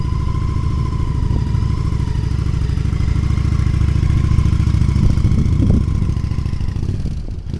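A motorcycle engine runs steadily near the listener for several seconds on a parking lot gymkhana practice loop, a constant mid-pitched drone with light mechanical clatter and no clear rev changes, alone without talk.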